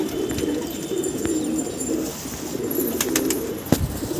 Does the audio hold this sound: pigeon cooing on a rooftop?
yes